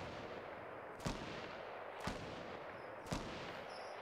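Three evenly spaced, distant gunshots in a Fortnite Battle Royale match, each a short sharp crack about a second apart over a steady, quiet background hiss.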